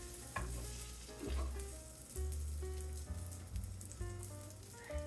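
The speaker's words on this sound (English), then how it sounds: "So I'm gonna flip this so that my other piece of bread gets butter on it as well." A grilled cheese sandwich sizzles and crackles in a buttered pan, with a steady frying hiss broken by several clunks and scrapes of a spatula as the bread is flipped, close and with no talking.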